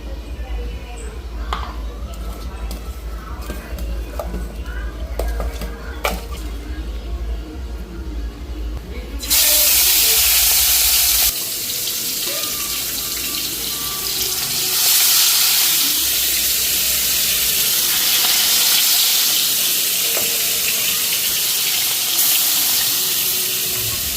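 Koi fish rubbed with salt and turmeric frying in hot mustard oil: a loud, steady broadband hiss and sizzle that jumps up partway through and keeps going to the end, with quieter kitchen sounds and a voice before it.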